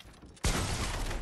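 Gunfire in the battle royale game Fortnite: a single loud, sharp burst that kicks in abruptly after a quiet moment and rings on as a dense, sustained wash of noise.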